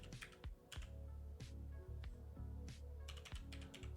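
Computer keyboard typed with one hand, key taps clicking in uneven bursts and short runs, close and fairly loud, with a steady low hum underneath and no talking.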